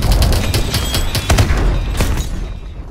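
Sustained gunfire and cannon blasts from tanks during a Call of Duty Advanced Warfare battle, loud dense bursts of shots with heavy booms throughout, fading slightly at the end.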